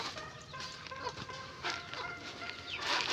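Domestic chickens and ducks cluck and chatter in a busy farmyard, a steady mix of bird calls at moderate distance with no talking.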